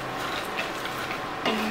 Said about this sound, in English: So very slowly, without making a mess, I'll try to add all my nuts in the masala and cranberries.